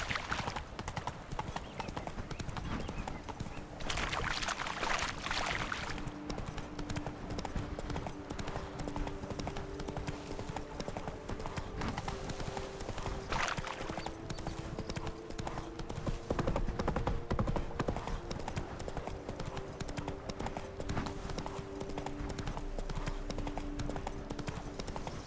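A horse gallops steadily in The Witcher 3, with continuous fast hoofbeats up close and a brief whinny, against game background sound.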